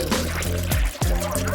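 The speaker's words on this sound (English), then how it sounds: "Our Sprunky aquarium's almost done. Just add water." Water pours steadily into a handmade cardboard aquarium, a continuous splashing gush with brief dips and gurgles, loud and close over a faint background voice.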